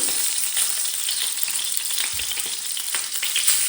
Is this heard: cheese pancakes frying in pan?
yes